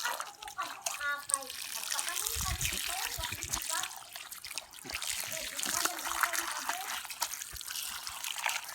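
Water runs from a tap at a rural farmhouse in Leyte, a steady faint trickle and splash throughout, with people talking quietly nearby.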